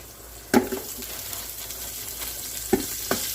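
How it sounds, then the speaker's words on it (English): Chopped onions and garlic hitting hot olive oil in a pan, a sharp sizzle burst followed by softer crackling and a couple of scraping stirs, close by. "And then we're going to throw in our onions and garlic."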